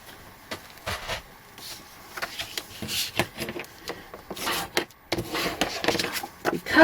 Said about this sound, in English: again, I'm going to burnish that down